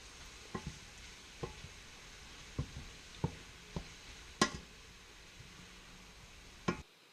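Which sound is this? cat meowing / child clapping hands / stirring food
stirring food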